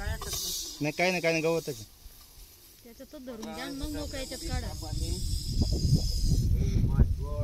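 A Russell's viper trapped in a tin can down a well gives loud, breathy hisses in bursts. People talk over and between the hisses.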